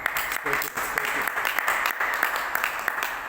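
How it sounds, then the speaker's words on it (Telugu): A congregation claps together in praise of God during a Catholic holy adoration service, producing a steady, dense wash of hand claps across the whole stretch. "చప్పట్లు కొట్టి దేవుని స్తోత్రించుదాం."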